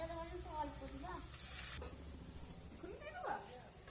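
Food frying and sizzling in a pan as spices are added during group home cooking, with stirring scrapes and a clatter midway, while a voice talks faintly in the background.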